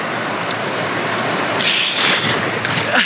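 Big sea waves break and rush at Shrivardhan beach, a constant loud roar of surf with hissing swells of spray building toward the end, close and without talk.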